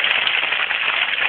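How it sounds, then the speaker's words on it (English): Hail pelting down in Dayton, Ohio on a spring day, a loud, dense, continuous patter of hard impacts close by with no voices. "It's hailing in Dayton, Ohio."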